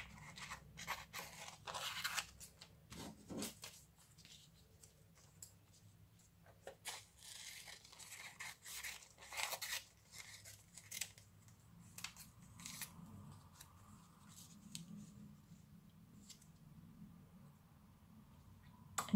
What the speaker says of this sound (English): Now I'm gonna cut it into bigger chunks.